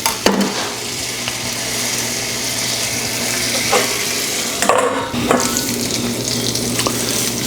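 A hot dog and bun cooking on a flat griddle beneath a dome, steady close sizzling with a few metallic clanks and scrapes from a spatula, no talking.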